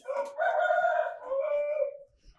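A rooster on a village farm with country chickens gives one loud, close, drawn-out crow, stretching over about two seconds before fading, with no other sound around it.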